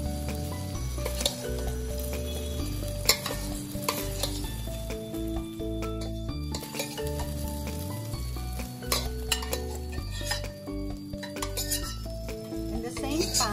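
Squid frying in oil in a pan, a continuous close sizzle with intermittent utensil clinks and stirring scrapes, under steady background music.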